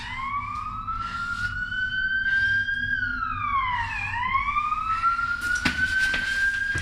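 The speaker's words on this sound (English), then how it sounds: "we just heard the sirens in the distance" A wailing siren rises and falls in long sweeping tones, steady and fairly distant, with a low hum of traffic underneath.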